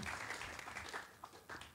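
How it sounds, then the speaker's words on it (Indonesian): Brief, faint applause from an audience at an interfaith discussion event, a scattered patter of clapping that lasts under two seconds with no talk. "Terima kasih, tepuk tangan."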